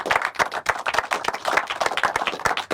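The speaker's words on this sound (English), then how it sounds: "Keep the applause going." Applause from a small audience as a guest returns to his seat at a magic review show: steady, close clapping from several people running through the whole moment, with no talking over it.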